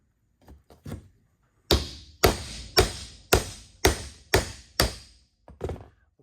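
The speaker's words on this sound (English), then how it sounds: "So tap on the other side, see if we can free it up." Hammer taps on the tailshaft bearing caps of a 1972 Land Rover Series IIa, trying to free a stuck drift: seven loud, evenly spaced metallic knocks, close by, with a few lighter taps before and after.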